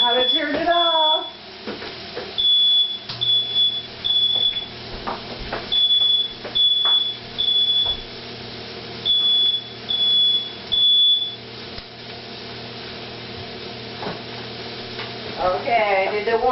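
A smoke alarm beeps in repeated short bursts over a low electrical hum, with brief clatter and faint voices at the start and end.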